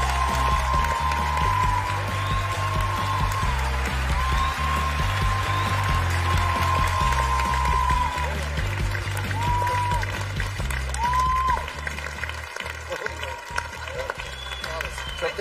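Studio audience on a Turkish TV talent show bursts into sustained applause and clapping as guest Hasan Can Kaya is introduced, a steady crowd wash with band music running underneath before it thins out toward the end.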